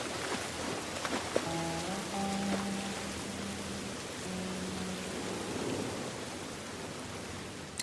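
Steady rain pours in a video game, a dense even hiss with a few soft tonal notes drifting underneath, no voices.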